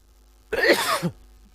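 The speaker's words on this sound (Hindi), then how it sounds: "सॉरी खांसी आ रहा है" One short, harsh cough, alone in a quiet room.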